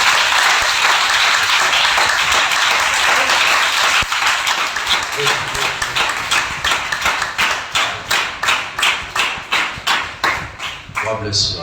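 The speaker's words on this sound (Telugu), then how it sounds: "ఒకసారి గట్టిగా అందరం కలిసి అయ్యగారిని అభినందించడానికి మాత్రమే చప్పట్లు కొట్టి" A congregation applauds together in honour of a church elder, a dense loud roar of clapping that thins into distinct rhythmic claps toward the end.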